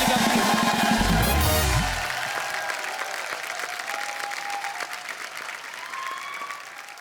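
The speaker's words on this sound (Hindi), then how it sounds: "अब मल्लिका के लिए जोरदार तालियां" A studio audience applauds on a comedy talk show, with loud music at the start, then steady sustained clapping that continues alone.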